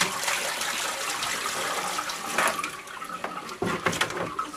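Water sloshing and trickling as the rinse water is changed while cleaning an electrode, moderately faint and close, with a few brief splashes near the end.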